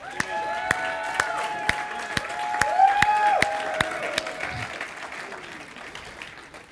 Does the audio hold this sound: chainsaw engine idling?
no